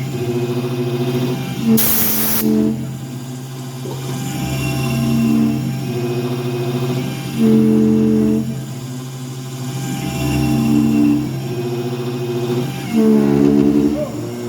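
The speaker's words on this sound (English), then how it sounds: "That chatter has to be really bad for that end mill." An end mill on an MR-1 milling machine chatters while cutting steel, giving a steady droning hum with recurring buzzy, pulsing tones and a brief hiss, loud and continuous throughout.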